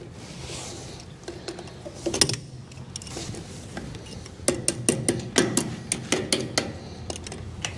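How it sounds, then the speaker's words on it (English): A metal cotter key is worked out of a wheel bearing assembly, with scattered scraping and fiddling noises early on. These are followed by a run of sharp, close metallic clicks in quick succession, and there is no speech. "So we're gonna remove the cotter key"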